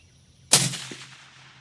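A single rifle shot fires a Hornady A-Tip 153-grain match bullet from a cold bore: one sharp, loud crack breaking a quiet moment, then a short rolling decay.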